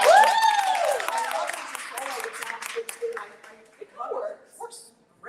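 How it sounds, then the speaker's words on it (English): Applause for a Book of Mormon performer, with a sung or sustained voice at the start over clapping that thins and fades, then scattered talk and laughter from the audience. "give another round of applause for JJ"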